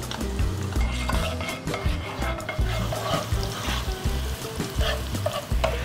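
Onions and garlic sautéing in a pan, a steady close sizzle with repeated scraping and stirring clatter from a utensil against the pan, and no talk over it.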